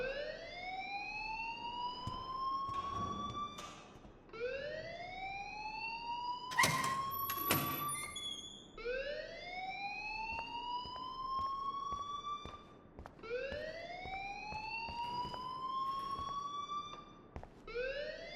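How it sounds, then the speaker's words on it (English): A loud school alarm in the video game Life Is Strange wails in repeated rising sweeps, each lasting a few seconds, with a brief clatter partway through. "please turn off that alarm since that's your job"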